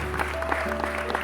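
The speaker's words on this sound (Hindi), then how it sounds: "फिर जब तालियों की गूंज की आवाज आई तो हानी बहुत खुश हो गई" A short burst of applause sound effect plays in a cartoon story, rapid faint clapping over a low background for about a second.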